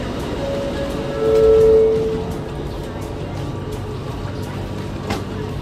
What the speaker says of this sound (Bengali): তো মেট্রো এসে গেছে